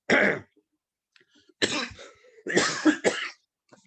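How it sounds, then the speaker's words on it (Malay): Several harsh coughs close by, one burst, a pause, then a cluster of three or four coughs with some throat clearing. "Batuk."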